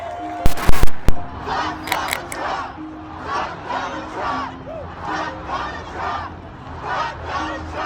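A large crowd of protesters at a Hands Off rally against Trump and Musk chants in a rhythmic, repeated pattern, opening with a few sharp blasts from horns or noisemakers, all heard at moderate distance.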